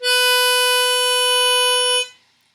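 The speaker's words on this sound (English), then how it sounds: "And now I'm drawing in on the four hole, which is an octave up, just playing a single note." An A harmonica plays one drawn single note on the four hole, an octave above the one-hole note, held loud and steady for about two seconds and then stopping abruptly, close with no other sounds.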